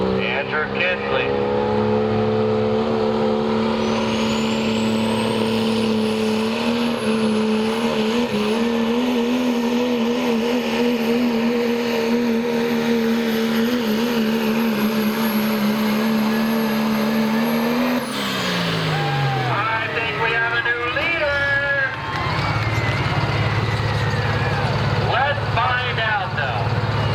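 A pulling truck's engine screams at high RPM during a truck and tractor pull, holding a loud, sustained wavering drone for many seconds before dropping off sharply, followed by crowd noise and another engine.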